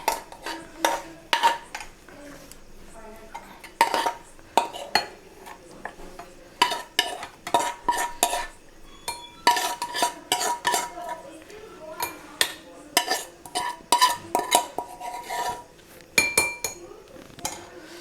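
Spoon scraping and clinking against metal pots and a serving dish as Kerala ginger curry (inji curry) is moved across, irregular close clatter in steady bursts with faint sizzling.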